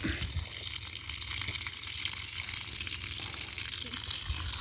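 Water rushes from a garden hose in a steady, loud, unbroken gush for several seconds with no voices over it.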